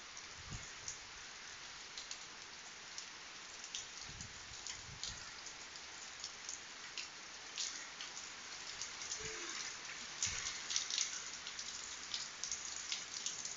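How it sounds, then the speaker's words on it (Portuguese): Heavy rain falls in a dense, constant patter of drops on surfaces. Scattered louder splats stand out, and the downpour builds slightly toward the end, with no voices. "É muita chuva."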